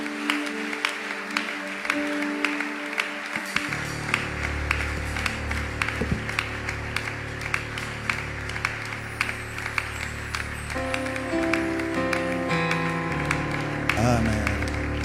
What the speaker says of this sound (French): Est-ce que tu peux continuer à acclamer Dieu,